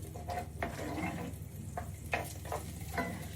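Mushrooms frying in butter: a steady soft sizzle with a few stirring scrapes and clicks, close up, no voices.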